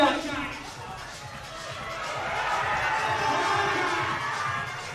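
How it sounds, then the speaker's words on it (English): Crowd cheering for a climber at the BMC British Boulder Championships finals at the Depot Climbing wall, a sustained roar of many voices that swells toward the middle and holds loud, with talk over it. "Crowd really lifts for Jack."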